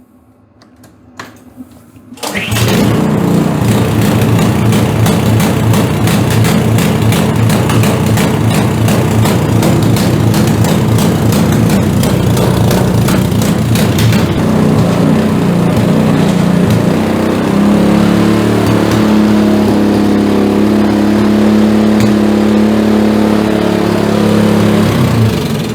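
A repaired snowblower engine is pulled and catches after a short quiet moment, then runs loud and steady at close range; partway through its note drops and steadies into a smoother idle, with no talking over it.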